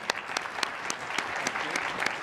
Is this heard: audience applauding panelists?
yes